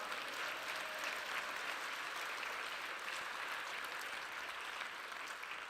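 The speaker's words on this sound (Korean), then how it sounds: "박수를 올려주시면 좋겠습니다." A church congregation at a gospel conference in the Immanuel Centre in the UK applauds in praise, producing a steady, even wash of clapping that carries on without a break.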